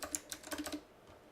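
Quick light keystrokes on a computer keyboard, a short cluster of about half a dozen close clicks that fade into quiet.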